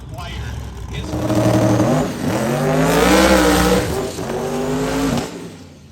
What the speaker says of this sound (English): He has since made the switch to turbochargers. As you can hear, it is a whole lot quieter.